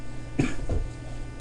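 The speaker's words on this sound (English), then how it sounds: "Excuse me, it's cough season." A person coughs close to the mic in a few sharp, rough bursts, two quick ones followed by a third right at the end, with no speech.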